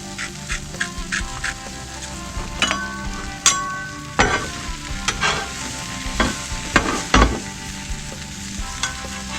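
Brussels sprouts sizzle steadily in a hot pan while a utensil stirs them, sending scattered clicks and scrapes over the frying hiss, with no talking.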